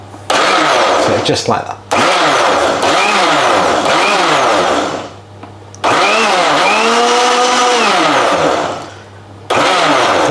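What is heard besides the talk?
blender pulsing mocha powder mix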